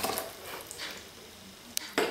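Cannelé batter with added rum is stirred in a bowl, producing faint scraping and clinking of a utensil against the dish, with a few sharper knocks near the end.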